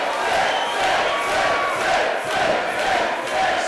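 A large wrestling crowd at a no holds barred match roars and cheers continuously, a dense wash of voices rising and falling in gentle surges with scattered whistles and shouts.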